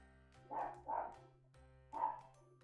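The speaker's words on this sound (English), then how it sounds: "That's my dog." A dog barks indoors at someone arriving at the door, giving two quick barks and then a third after a short pause, moderately near, with a low steady hum underneath.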